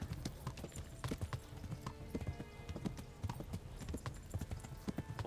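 Horse hooves clip-clop at a steady trotting rhythm in the medieval game Kingdom Come: Deliverance, close and continuous throughout, with low rumbling game ambience beneath.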